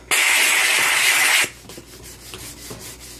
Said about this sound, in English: You can see with this triangle brush, it's got that really nice brush head there. So we'll go ahead and we'll try that over a little spot.